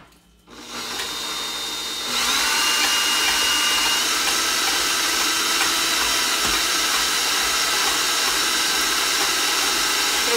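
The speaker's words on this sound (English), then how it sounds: "my mixer is very loud" An electric stand or hand mixer whips cream for a fresh strawberry cream pie in a home kitchen. A loud, steady motor whir starts abruptly and keeps running evenly close by, with no talking.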